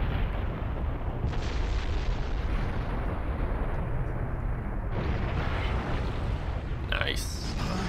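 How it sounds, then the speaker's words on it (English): A tailed beast bomb Rasengan explodes in the Naruto Shippuden: Ultimate Ninja Storm 4 video game as a loud, sustained roaring blast that fills the whole stretch and swells again near the end. "A tailed beast bomb Rasengan."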